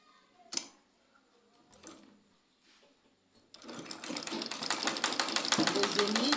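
A sewing machine joins the ends of an elastic band, starting with a few hand-turned clicks and stops, then running steadily in a fast, even mechanical rattle for the last few seconds, close and clear.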